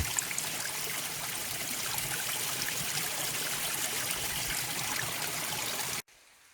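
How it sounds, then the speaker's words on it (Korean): A mountain stream runs down over tree roots in a forest with a steady, close, rushing trickle and gurgle that ends abruptly. "산소의 계곡물이 이렇게 나무 뿌리로다가 계속 내려오고 있네, 물이"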